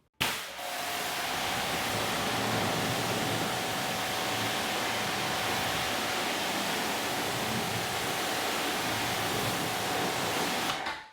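A Kranzle 1322TS pressure washer with a 25-degree tip rinses a panel in a steady, loud hissing spray that runs for about ten seconds, with a faint pump hum underneath and no talking.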